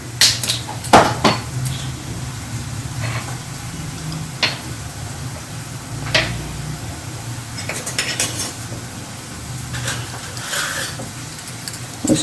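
A spoon clinks and scrapes against a pan while spices are mixed into baingan bharta, giving irregular metallic taps and knocks at close range.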